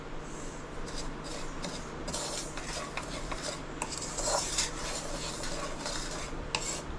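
Semolina dry-roasts in a pan while a spoon stirs it, giving continuous close scraping and rubbing against the metal with occasional clinks and no talking.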